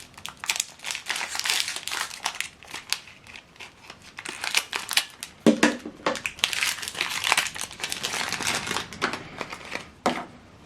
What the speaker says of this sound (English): Okay, just need to pull off this plastic.